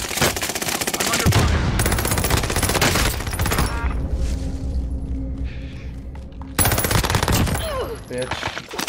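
Heavy automatic gunfire from a Call of Duty Warzone match, loud rapid bursts with booming impacts, a quieter stretch of lower rumble in the middle before another dense burst of fire.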